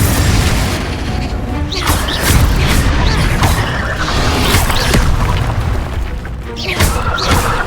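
Fiery Confringo spell blasts in Hogwarts Legacy go off in a loud, close run of booming bursts and crashes, several separate impacts spread across the clip over a dense, noisy battle backdrop.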